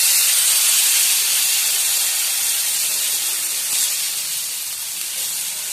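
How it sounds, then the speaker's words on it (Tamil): Eggless gram flour omelette batter poured onto a hot oiled dosa griddle gives a loud, steady, close hiss that barely changes across the whole stretch, with no voices. "இப்போ நம்ம கலக்கி வச்சிருக்கிற சைவ ஆம்லெட் தோசைக்கல்ல ஊற்றிக்கலாங்க."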